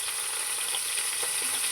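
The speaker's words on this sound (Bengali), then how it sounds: "দুটো মাছ দিয়ে দিলাম, একসাথে দুটো মাছ দিয়ে ভাজি।" Two tilapia fish frying together in a modest amount of oil, giving a steady, even hiss and crackle that stays constant throughout with no voices.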